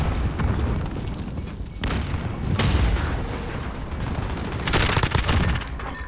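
Gunfire rattles through a Call of Duty Modern Warfare match: loud, close bursts of shots and booming impacts over a dense battle roar, with sharp volleys around the middle and a heavier cluster near the end.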